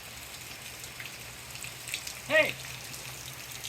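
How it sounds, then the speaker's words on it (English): Light rain patters softly and steadily in the background, with a brief louder voice-like sound partway through. "And it's really nice rain right now."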